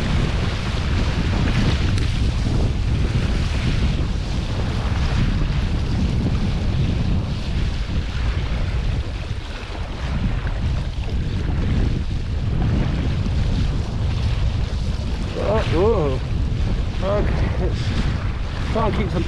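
Strong, steady wind roars across the microphone while windsurfing on open water near Christchurch without a daggerboard, a loud, continuous buffeting rush with water sloshing beneath it and a few brief voiced sounds.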